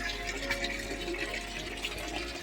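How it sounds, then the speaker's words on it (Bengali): Fresh water pouring into a high-density biofloc fish tank during a water change, a steady rushing flow with a low hum underneath, moderately quiet and continuous. "নতুন জল দেওয়া হচ্ছে, পুরনো জল"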